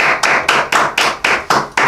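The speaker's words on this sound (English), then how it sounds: "Give it up for Khaled Elchoufi" Bursts of audience applause for comedian Khaled Elchoufi, loud and close, swelling and fading in about eight quick waves.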